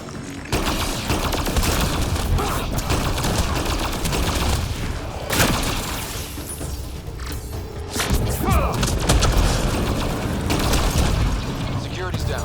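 Incendiary gunfire in the video game Mass Effect Andromeda, a dense, continuous barrage of loud shots and booms that fills the whole stretch, with brief dips, over game sounds.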